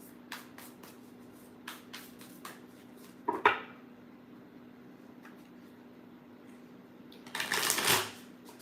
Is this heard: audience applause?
no